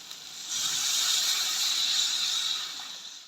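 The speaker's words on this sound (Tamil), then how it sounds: "ஓகே தேங்காய் பால் விட்டாச்சு" Coconut milk poured into a fish curry of paarai fish in a home kitchen, a steady hiss-like pour that rises quickly, holds for about two seconds, then tapers off alone with no talk.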